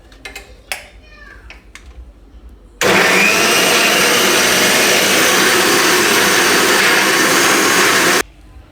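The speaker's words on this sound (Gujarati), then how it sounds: "તો આને આપણે પીસી લીધું સારી રીતે" A mixer grinder blends papaya pieces into a paste for Gujarati papaya shiro, a sweet dish: after a quiet start, a loud, steady motor whir and grinding runs unbroken for about five seconds, then cuts off.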